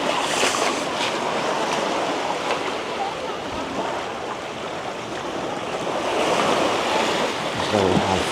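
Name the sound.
ocean waves at high tide, Padang Padang Beach, Bali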